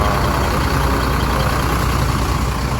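A Putra Pelangi Aeroliner bus from Medan sits idling at a station ticket counter, its engine giving a steady, continuous low rumble at close range with no talk over it.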